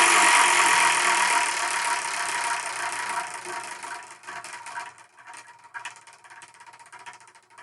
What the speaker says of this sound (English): That was a really good spin.